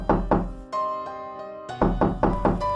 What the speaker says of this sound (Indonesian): Suara ketukannya berasal dari pintu.